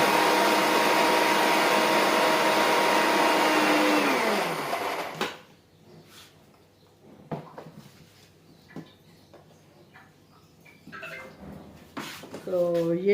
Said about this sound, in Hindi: तो ये देखें जी, ये मैं पीस रही हूँ चीनी